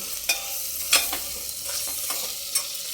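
Slit green chillies frying in oil with spices, a soft, steady sizzle broken by a few sharp crackles and stirring clinks close by, with no talking.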